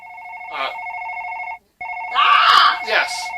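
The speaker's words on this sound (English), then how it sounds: "Answer the phone!" A telephone bell rings loudly in two bursts separated by a brief gap, with agitated voices and a shout cutting in over the second ring, from the 1984 horror film Mutant.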